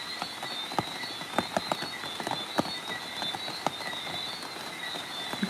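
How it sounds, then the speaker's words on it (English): Rain pattering on a tarp outdoors, irregular sharp drips and taps over a steady hiss, with a continuous high frog-like chorus in the background. "This rain is falling on a tarp."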